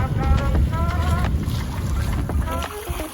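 Steady wind rushing over the microphone aboard a Com-Pac Eclipse trailer sailer, with water sloshing and faint tonal creaks throughout.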